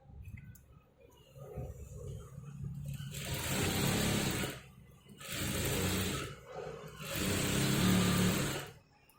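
An electric sewing machine stitches a blouse lining, running in three sustained bursts of motor whir and needle chatter separated by short pauses, close and fairly loud with quiet low hum between.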